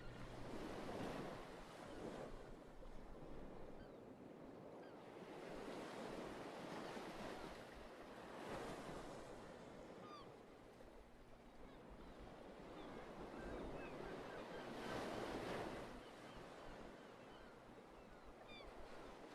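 Ocean surf rolls onto a beach in slow repeating swells, a steady roar with wind buffeting the microphone, each wave building and fading over several seconds.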